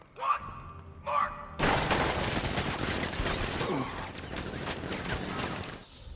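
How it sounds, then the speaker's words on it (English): Sentry gun turrets open fire in Batman: Arkham Knight, a dense, sustained barrage of rapid gunfire and thuds that bursts in after two short voiced lines and rumbles on loudly until near the end. "Activate sentry guns on my mark."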